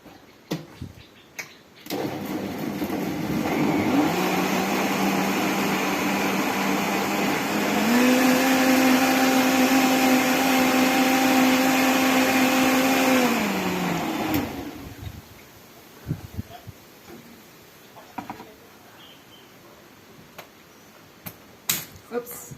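A smoothie being mixed in a blender, a loud steady whirring motor that runs for about twelve seconds, rises in pitch partway through, then cuts off into quiet room noise.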